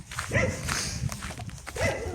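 A pet dog barks in a few short, fairly distant yaps outdoors on a cold, cloudy day, mixed with faint footsteps and background noise.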